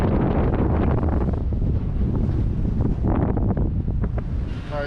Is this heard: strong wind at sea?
yes